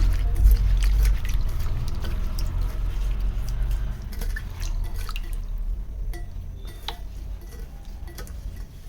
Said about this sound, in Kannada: ಸೊ ನೀಟಾಗಿ ಈ ರೀತಿ ಒಂದು ಟೂ ಟೈಮ್ಸ್ ತೊಳ್ಕೊಂಡ್ರೆ ಸಾಕಾಗುತ್ತೆ